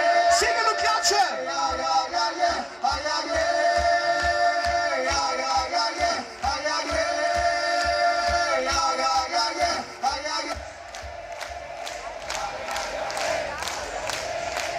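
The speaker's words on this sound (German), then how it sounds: "Singen und klatschen." Festival crowd at an open-air pop concert on the Donauinselfest, Vienna, singing loudly along with steady rhythmic clapping over the band's music, which drops away near the end while the clapping continues.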